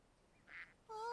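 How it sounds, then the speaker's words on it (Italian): Cartoon ducks quacking from a children's animated boat-trip scene, one brief quack followed by a brighter, louder call at the end, heard alone without speech. "Ora ti insegnerò a parlare come fanno le anatre."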